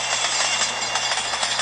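Trains rumble through a railroad crossing in the mobile game Train Crash, a steady, loud, broadband roar of rolling rail cars with faint rhythmic clatter throughout, close and continuous with no talk.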